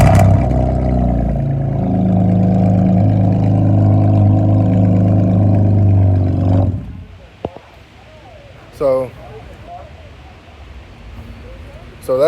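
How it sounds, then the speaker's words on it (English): A V6 car engine with a straight-pipe, catless exhaust revs loudly and close for several seconds, then cuts off abruptly, leaving quiet background with brief faint sounds and a sharp burst at the end. "that's why my V6 is so freaking loud right now."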